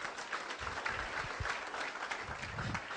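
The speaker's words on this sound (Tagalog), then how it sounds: "Hindi po yan ang palakpak na gusto ko." Audience at a seminar on earning extra income claps for about three seconds, a dense, even wash of many hands with a faint crowd murmur underneath and no speech over it.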